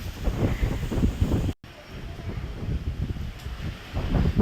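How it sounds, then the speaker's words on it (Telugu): Strong wind from Cyclone Montha buffets the microphone with a loud, rumbling roar, dropping out briefly before gusting on again. "గాలి గట్టిగా వీస్తుంది"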